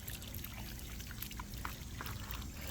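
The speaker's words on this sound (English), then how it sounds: "I'd rather give them little bursts of water here and there throughout the day than to soak the crap out of them." Water poured from a container onto potted tomato plants in a hot southern garden, a steady soft splashing trickle over low outdoor rumble, with no voices.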